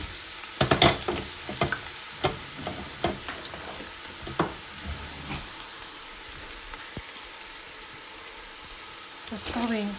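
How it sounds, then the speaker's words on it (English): Five large sliced onions dropped into a cup of heated oil, giving a burst of loud crackling and spattering that settles into a continuous fine sizzle with scattered pops, then a fresh flurry of crackles at the end. "I've got 5 large onions here which I've sliced. Just going to put them in."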